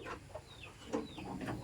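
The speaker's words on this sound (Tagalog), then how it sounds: "Ay, yan ang inahin." A hen clucking softly near a smelly farmyard spot in the rural Philippines, a few short low clucks scattered among faint background noise and distant bird chirps.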